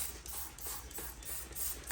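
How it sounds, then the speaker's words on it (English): A trigger spray bottle mists cleaning product onto Honda car floor mats in rapid repeated pumps. Quick, close, hissing bursts come in a steady rhythm about three times a second over a low hum. "gonna go ahead and spray a little bit more product on"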